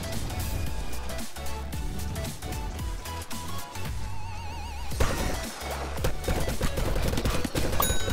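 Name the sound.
gunfire shooting in the video game Plants vs Zombies 2 3D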